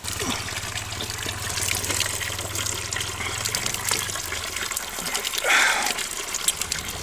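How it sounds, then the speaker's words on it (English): Spring water flows and trickles continuously in a small stream at a Buddhist temple in Dali, China, a soft close babble with faint background sounds. "this is the stream where the spring water comes"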